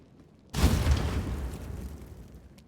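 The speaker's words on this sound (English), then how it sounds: "So let's just let him explode on the trap." In Pathfinder: Wrath of the Righteous, a character triggers a trap and explodes. A sudden, loud boom bursts in after half a second of quiet, then decays into a long rumbling tail.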